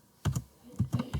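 Keys clack on a computer keyboard while Python code is typed, a quick burst of two strokes followed by a pause and then three more crisp, close taps.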